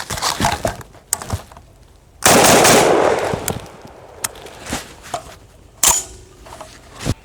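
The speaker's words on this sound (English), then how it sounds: "See how fast I can shoot it? 3 rounds, how little of a muzzle climb I got." A SIG 552 (Stgw 552) rifle fires three rounds in rapid succession, a loud, close blast lasting about a second, surrounded by scattered sharp clicks and distant reports.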